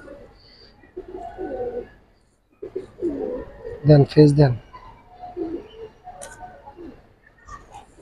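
Silver bagha pigeons coo in a short rolling burst, close and clear, while people talk intermittently around them.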